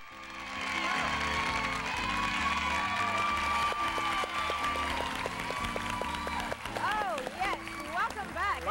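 A live studio audience at the 1986 premiere of a local TV bingo game show cheers and applauds steadily, a dense wash of clapping and whoops under music, heard moderately close, with a presenter's voice breaking in near the end.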